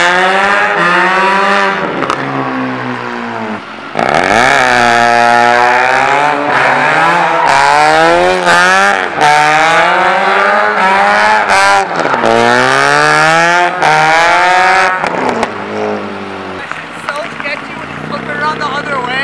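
A Mazda RX8 with its catalytic converters cut out, its loud exhaust revving hard in repeated rising and falling sweeps, close and dominant, with brief pauses between pulls.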